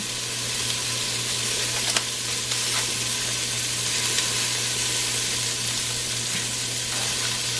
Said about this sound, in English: I'm gonna add my sazón, and I'm also gonna add a patch of my ham.